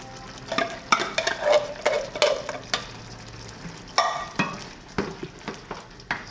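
Tomato sauce is stirred in a hot pan, a spoon scraping and clicking in irregular strokes over a soft sizzle, close and fairly loud.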